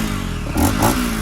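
Honda XRE 300 Rally motorcycle with a 2x1 exhaust revving up close and loud, a deep growling burst that rises in two quick throttle blips.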